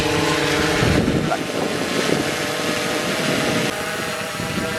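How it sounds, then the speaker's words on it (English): A SwellPro Splashdrone 3+ comes down on an automatic landing, its propellers and motors giving a steady, loud buzzing whir throughout, with wind rushing across the microphone. "As you can see, the drone is busy doing an auto land."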